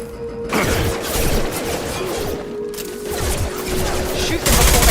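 Gunfire from a firefight in the video game Mass Effect 2, loud and close, with bursts of shots and crashes over a steady roar of combat, a voice talking intermittently underneath.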